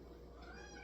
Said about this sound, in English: But that's a cat for you.